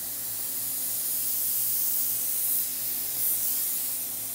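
A spray gun lays down candy base coat paint in a steady, close, continuous hiss with slight swells in strength, no voices over it.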